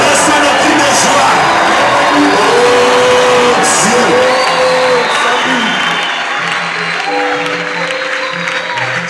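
A church congregation applauding, whooping and shouting together for joy, sustained throughout with voices rising over steady clapping.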